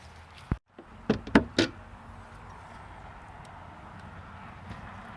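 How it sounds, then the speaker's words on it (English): A Maserati GranTurismo hood is popped open: a sharp latch click followed by a few quick metallic clunks, then a quiet steady hum. "I'm gonna pop the hood"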